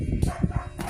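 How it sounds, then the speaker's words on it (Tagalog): A dog barks a few quick times, faint and somewhat distant, over low background noise. "Ayan, may tumatahol na aso."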